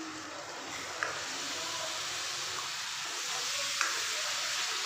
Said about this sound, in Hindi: अब इसमें मैं एक टमाटर का जो पेस्ट बनाया था मैंने वो डालूंगी